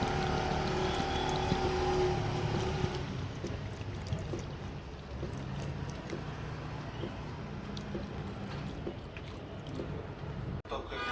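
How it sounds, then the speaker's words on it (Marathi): Water is poured onto garden plants, a splashing, gushing flow that runs strongest at first and then continues as a softer trickle and patter, with a person talking nearby. "बघू शकता मी पाणी देत आहे, झाडांना देत आहे पाणी"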